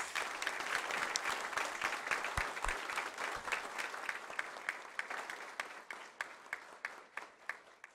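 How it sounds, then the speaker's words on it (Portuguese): Audience applause at a solemn assembly session, a dense sustained wash of many hands clapping, loud and near, thinning toward the end into scattered individual claps. "Vamos aplaudir aquele que é o autor da vida"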